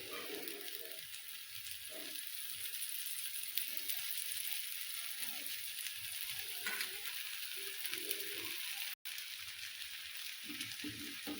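Oil sizzles steadily in a pan as crispy pearl millet dosa fries, a constant close hiss with faint talk underneath.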